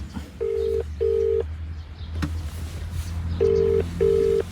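A mobile phone call is placed and rings out unanswered: two long ringback tones, a pause with a brief click, then two more tones, steady and close, over a low background hum.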